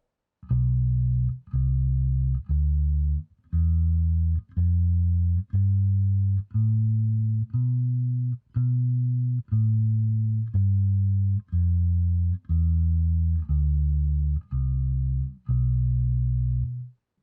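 A bass guitar plays a slow ascending and descending B Locrian scale in seventh position, one deep plucked note at a time at a steady pace, close and clear.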